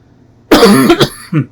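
A single harsh cough up close, a brief throaty burst followed by a smaller second cough, with quiet before it.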